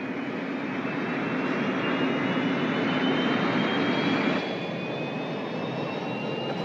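Steady, loud roar of an aircraft taking off, a broad jet-like rush holding throughout with a thin rising whine, easing slightly near the end.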